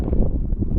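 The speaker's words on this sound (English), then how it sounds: "It is a little windy." Wind buffets an outdoor microphone, a steady low rumbling roar with uneven gusty pulses, loud and close, with no other sound standing out.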